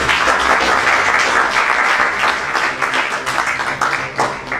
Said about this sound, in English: please once again with a huge applause welcome our guest.